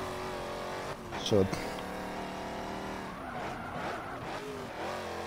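A Dodge Charger SRT-8 drives fast through track corners, engine droning steadily with a brief tire squeal as it turns in and gear changes later, while someone talks over it.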